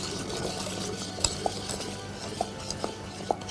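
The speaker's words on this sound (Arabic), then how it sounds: "فهسيبه على النار يغلي لمدة حوالي دقيقة مع التقليب" A spoon stirs sugar boiling in a pan on the stove, giving a few sparse metallic clinks against the pan over a steady low bubbling hiss, with no talking.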